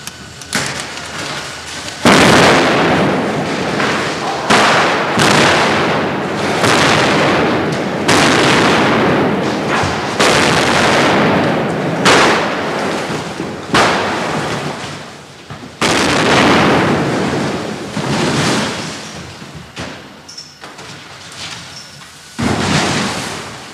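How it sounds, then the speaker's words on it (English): Staged special-effects explosions for Superman 3 boom out as a series of loud, roaring blasts, each a broad burst of rumbling noise decaying over a few seconds, with short silent gaps between them. "extra cameras are brought in to capture the final explosion"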